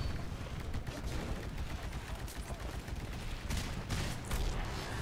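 Shotgun fire in the Titanfall video game blends into a dense, continuous wash of battle noise, with heavy blasts and rattling shots layered loud and close for the whole stretch.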